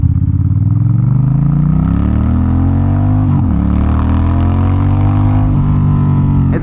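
A Honda Rebel 1100 motorcycle with its muffler removed roars close by under way, the raw 270-degree-crank twin climbing through repeated revving pulls with a brief dip between them, loud and continuous without talk.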